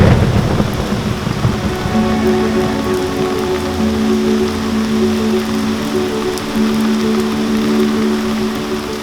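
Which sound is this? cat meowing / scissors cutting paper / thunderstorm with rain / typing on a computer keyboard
thunderstorm with rain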